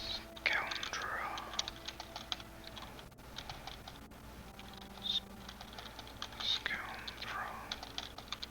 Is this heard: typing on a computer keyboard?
yes